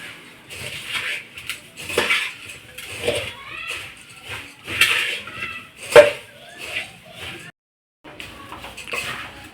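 Puffed rice being stirred together with a tempering in a pan, heard as repeated scraping and clattering bursts from a utensil against the pan, with a short pause near the end before the stirring resumes.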